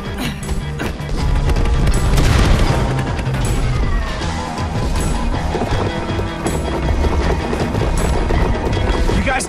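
Fireworks launch in the Minecraft Story Mode video game: a busy, loud burst of whooshes, crackles and crashing noise that builds after a quiet first second and churns on to the end.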